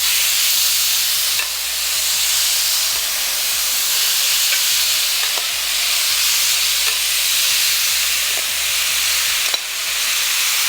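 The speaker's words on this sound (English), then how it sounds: "If you ain't getting the sizzle, you ain't doing something right." Beef for pepper steak sizzles steadily in a hot pan, a dense continuous hiss with faint crackles and occasional pops, close and alone.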